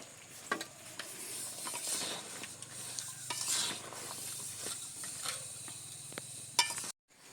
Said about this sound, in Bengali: কাঠি গজাটা লাবিয়ে আমি একটু নেড়ে চেড়ে নিয়ে আর ওপর থেকে তুলে নিচ্ছি কাঠি গজাগুলো